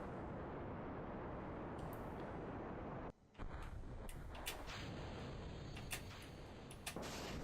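A rocket stage engine fires in the game Kerbal Space Program as a loud, continuous roaring rumble, cut by a brief drop-out near the middle before resuming with crackling bursts on top.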